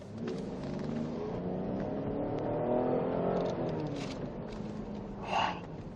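A 2nd-generation Cadillac SRX 3.0 V6 gasoline SUV's engine accelerates in a steady, rising roar heard from inside or close by, with no talking.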